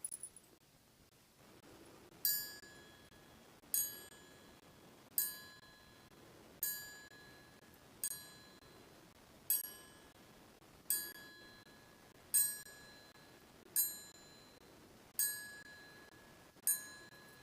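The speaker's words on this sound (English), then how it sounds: "I ask you to listen in reverence to the chime of the hour of 11" Eleven evenly spaced bell chime strikes mark the hour at a remembrance ceremony, each a bright ringing tone that decays before the next, heard alone against a quiet background.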